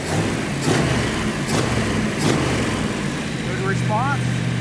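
A 440 Six Pack V8 in a Plymouth Cuda idles with a low, steady rumble while people talk over it nearby.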